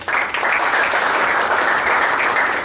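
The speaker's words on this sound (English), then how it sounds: "they deserve a big round of applause." A hall audience at the opening ceremony of the Big Bazaar National 8 & 9 Ball Pool Championship gives a dense, loud round of applause for the organisers, a steady roar of clapping that holds evenly throughout.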